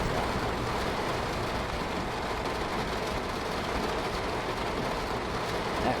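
Steady loud rainfall around a Long Island Rail Road M3 train in Train Sim World 5, an unbroken broadband hiss mixed with faint train rumble and no voices.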